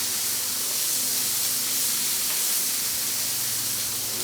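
Beef bacon and corn fry on a Blackstone griddle with a steady, close hiss and sizzle that holds at an even level throughout, with no talking over it.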